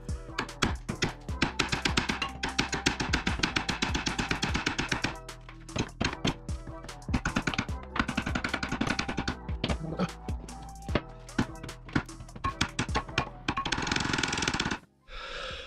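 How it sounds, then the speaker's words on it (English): Hammer blows ring out against a ball joint on a 1998 Subaru Impreza 2.5RS front suspension during crossmember removal, dense rapid metallic strikes in loud bursts with brief pauses, close and alone. "Let's just go ahead and give this a couple more taps"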